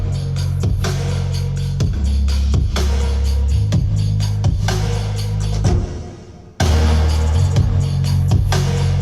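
A full beat of drums and percussion mixed together: punchy kicks, snares and hats in a steady groove over a low throbbing bass. It drops out briefly near the end, then comes straight back, loud and with no talking.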